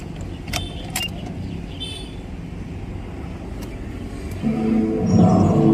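Keys jangle and turn in the ignition of a Mahindra Scorpio S9 fitted with an aftermarket amplifier. After a few quiet seconds, the engine rumbles to life close by, and a louder, steady idle follows.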